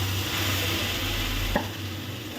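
Fish head and taro stolons stirred and frying in a pan over raised heat, a steady close sizzle with a brief scrape of the spoon near the end, no talking.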